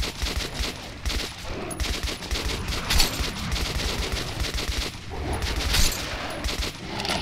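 Rapid automatic gunfire from the shooter game Metro 2033 Redux, in a tunnel, sustained bursts of loud fusillade firing with brief dips, dense and close throughout.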